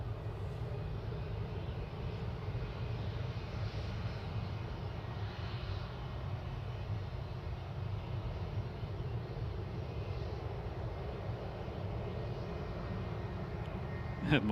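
An EasyJet airliner passes overhead near Manchester Airport, a steady, broad engine roar that holds at an even level throughout with no clear rise or fade.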